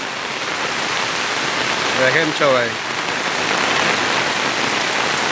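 Heavy downpour drums loudly and continuously on an umbrella at a rural market, a dense roar throughout while someone speaks briefly in the middle.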